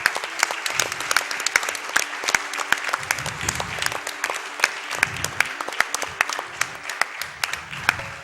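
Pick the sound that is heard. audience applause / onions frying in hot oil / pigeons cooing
audience applause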